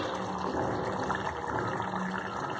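Water being poured into a pot of spicy chicken gravy (kuzhambu) while it cooks, a steady broadband gush that runs continuously and fairly close throughout.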